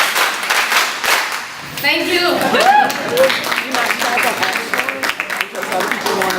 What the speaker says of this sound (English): A special clap that we and it's called the Champions Clap.